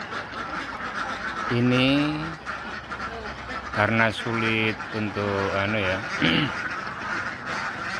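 Domestic ducks kept for laying quack in several nasal bursts close by, mixed in with a person speaking over them.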